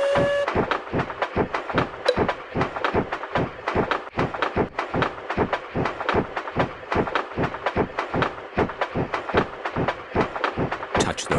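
A toy-style train in the Peppa Pig Train Ride game runs along with a fast, even clickety-clack rhythm of rail beats, loud and continuous, with a short horn-like tone near the start.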